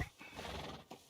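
A horse neighs once in Red Dead Redemption 2, a loud, close whinny lasting about a second, with no talk over it.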